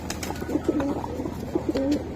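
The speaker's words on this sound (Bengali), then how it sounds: "এই যে দেখেন আপনারা কবুতরগুলো আমি দেখাই কত সুন্দর" Pigeons of fancy breeds such as kaldom, giribaz, chila and gorra, in a loft of birds kept for sale, coo close by in two soft, repeated phrases, with no talk over them.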